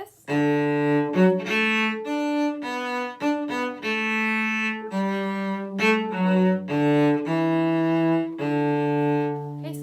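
Cello playing the opening of May Song, a steady flowing line of bowed notes with a few quick note changes, close and clear with no talking over it.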